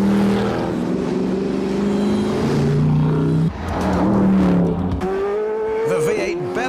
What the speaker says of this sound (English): The V8 bellow of the new Mercedes CLK Black.